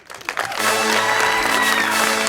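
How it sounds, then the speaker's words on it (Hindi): Studio audience applause on a Hindi-language talk show, starting thin and quickly swelling into steady, dense clapping with faint music tones underneath. "अपने लिए तालियां बजाएं।"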